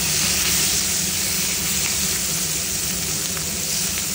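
Sliced onion sputtering in hot oil as a tempering for ridge gourd with poppy seed, a dense, loud, continuous hiss that stays even from start to finish, with no voices.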